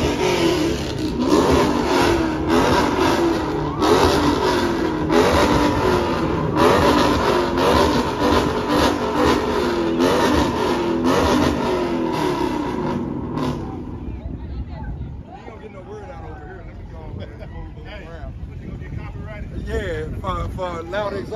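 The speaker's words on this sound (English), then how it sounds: "Loud Exhaust" A loud car exhaust roars and revs repeatedly in pulsing bursts, then drops to a lower rumbling idle; voices talk and shout underneath.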